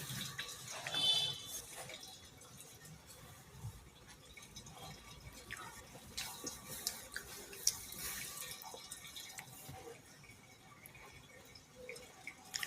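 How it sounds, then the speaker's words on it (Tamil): Sweet potato and potato lollipops frying in hot oil give a soft, continuous sizzle with scattered small pops and crackles, close but quiet, with no talking. "எண்ணெயில் போட்டுட்டேன்."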